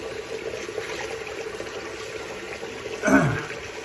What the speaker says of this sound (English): going to rerun some hot water here.